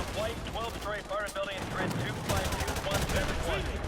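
Gunfire in Call of Duty: Modern Warfare 2 Remastered, with repeated rifle and machine-gun shots rattling in quick bursts under excited voices of players talking over the action.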